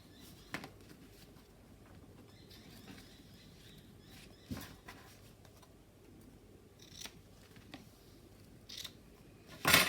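Scissors trimming a length of ribbon up close, a handful of quiet, crisp snips spaced unevenly over soft background rustling, ending with one louder cut.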